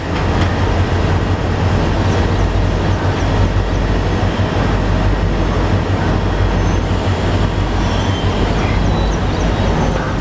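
Continuous loud rumble, rattle and rolling clatter of the Nandigram Express pulling out of Sahastrakund station, heard from onboard the train, steady throughout with no talk.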